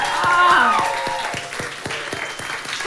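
A live cabaret audience applauds a choreographer during a Broadway musical show, a steady wash of clapping with a few sharp distinct claps, while a voice speaks over the start.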